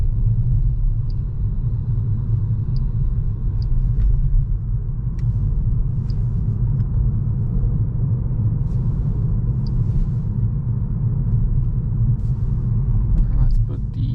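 A Peugeot 308 plug-in hybrid (180 hp, EAT8) driving with its engine running, a steady low rumble heard from the cabin beneath continuous talking, with faint clicks near the end.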